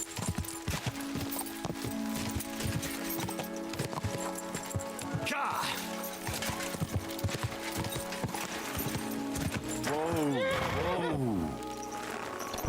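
In the video game Kingdom Come Deliverance 2, a horse's hooves clip-clop in a steady rhythm, then the horse gives a loud whinny near the end, with a voice talking over parts of it.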